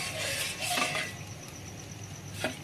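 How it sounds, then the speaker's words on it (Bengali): A utensil scrapes and clinks against a pan as sugar is stirred over medium heat to make syrup, light metallic taps and a soft steady hiss underneath, with no talking. "চিনিটাকে একটু নাড়িয়ে দিলাম"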